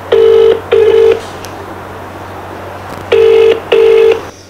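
Four loud DTMF dialing tones in two pairs, with a steady low hum underneath, as a telephone call is placed to a pharmacy.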